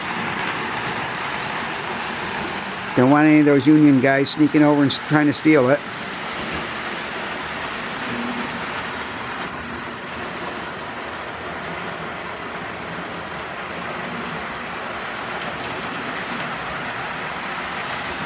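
A Lionel "The General" toy model train hums and clatters steadily along its track, with someone speaking briefly over the running noise.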